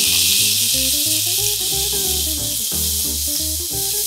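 Oysters frying in a pan over high heat give a loud, steady sizzle and hiss that runs unbroken throughout, with low background music tones beneath.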